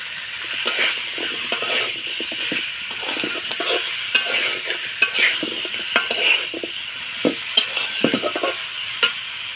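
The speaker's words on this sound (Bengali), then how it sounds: "এখন ভালোভাবে কষিয়ে নেব মাংসটাকে।" Village-style country chicken being stir-fried with vegetable stalks in a pan: a steady close sizzle under repeated scraping and stirring strokes, with occasional sharp clinks of the utensil against the pan.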